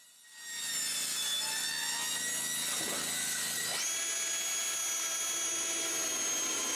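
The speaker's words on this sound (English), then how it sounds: "When all the sheets are screwed in place, I cut off the excess at the bottom of the sheets." A power tool cuts off the excess ends of sheets screwed onto a cottage shelter, a steady high whine that starts quickly and holds loud and even, its pitch dipping and shifting partway through as the blade bites.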